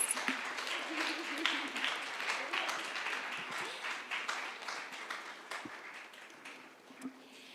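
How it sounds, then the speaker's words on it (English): Audience applause at the International Yoga Festival at Parmarth Niketan, a sustained patter of many hands clapping at moderate distance, fairly soft, tapering toward the end with faint voices underneath. "one big round of applause, please"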